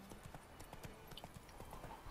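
Roach, the horse in The Witcher 3 video game, clip-clops along at a quick, steady rhythmic gait, hoofbeats moderately close over faint ambient background.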